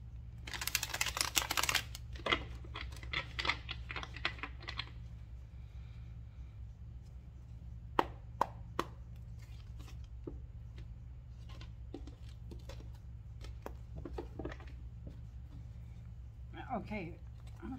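Soft papery riffling and light taps of tarot cards being shuffled, with a few sharper snaps, over a steady low hum and brief bursts of speech.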